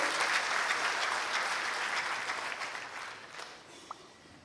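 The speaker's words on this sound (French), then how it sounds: "On l'applaudit une fois de plus, s'il vous plaît." Steady applause from an audience, dense clapping that gradually thins and fades toward the end.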